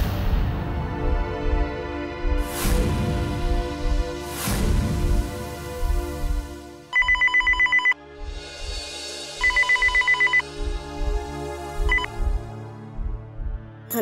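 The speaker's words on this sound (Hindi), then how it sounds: "संदीप दादा, मैं कब से आपका फोन ट्राई कर रही हूँ" A telephone is dialed with a quick run of touch-tone beeps, followed by ringing tones, with background music and bell-like chimes underneath in a Hindi TV drama.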